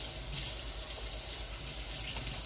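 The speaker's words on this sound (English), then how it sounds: "Wash my hands." Tap water runs steadily over hands at a kitchen sink, a continuous close hiss and splatter with no pauses.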